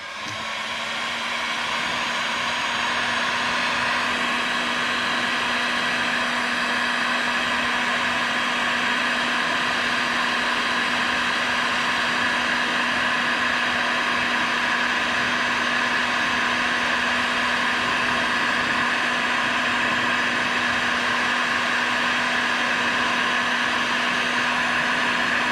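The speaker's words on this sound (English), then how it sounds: "go ahead and turn on your heat gun" A heat gun blows steadily and loudly for the whole stretch, shrinking heat-shrink tubing over a crimped battery cable lug, a constant whooshing roar with a low motor hum and no talking.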